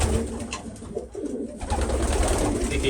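Pigeons coo softly at a pigeon loft amid a dense, noisy background of birds and rustling, the low calls repeating throughout.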